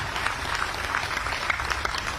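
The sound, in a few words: audience applause welcoming Shivraj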